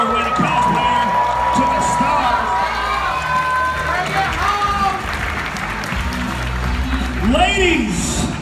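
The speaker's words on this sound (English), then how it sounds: "Last but not least, clap and scream for Belle Chere." Convention crowd at a cosplay championship judges' entrance, cheering and shouting continuously at close range, with loud sustained applause-like noise under it and an announcer's voice over the top.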